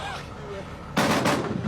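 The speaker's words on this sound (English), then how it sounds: "And now we're returning fire." Burst of rifle fire as soldiers return fire, starting suddenly after quieter ambient noise with a voice, then a loud, dense crackle of shots close by lasting under a second.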